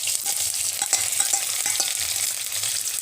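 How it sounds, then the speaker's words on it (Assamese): Onion, ginger, garlic, green chili and dried red chili hitting hot oil, a steady close sizzle with repeated stirring clicks from a utensil, no talking. "এয়া মোৰ এতিয়া তেল গৰম হৈ গৈছে আৰু ইয়াত দিছে এয়া মই শুকান জলকীয়া আৰু এতিয়া দি দিছোঁ কেঁচা পিঁয়াজ"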